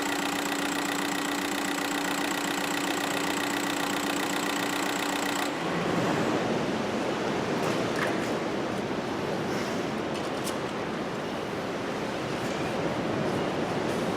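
A Seat Altea 1.9 TDI diesel engine idles steadily and loudly nearby, with a droning tone that changes partway through into a rougher, noisier clatter that continues to the end.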